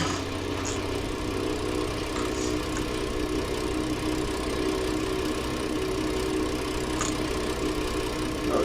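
Tractor engine in a farming video game running steadily at close range, a continuous mid-pitched drone with a rough, knocking texture and no speech.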